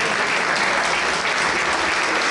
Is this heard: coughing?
no